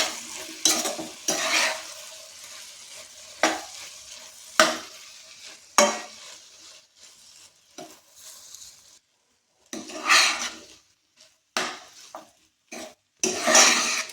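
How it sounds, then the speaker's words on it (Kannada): Rice stirred and mixed in a pan for palak rice, with a spoon scraping and clanking against the pan in separate bursts separated by short pauses, close and clear amid a light sizzle. "ನೀಟಾಗೆಲ್ಲ ಮಿಕ್ಸ್ ಮಾಡಿ."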